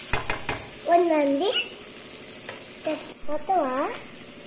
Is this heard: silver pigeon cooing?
no